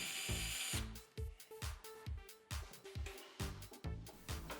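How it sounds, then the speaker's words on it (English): A power drill drives screws into hard birch plywood while joining a band saw stand base against an alignment template, giving about ten short, loud whirring bursts in a steady stop-start rhythm, close by. "Now I'll screw the base together with the help of this template to ensure proper alignment"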